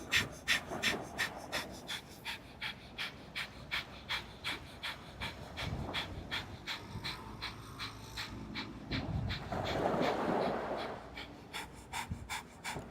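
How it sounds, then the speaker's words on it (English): Rapid, rhythmic breath-of-fire yoga breathing during an outdoor class on Catalina Island: a long run of quick, forceful nasal exhalations, close and fairly soft, with a brief pause and one deeper breath partway through. "And begin breath of fire."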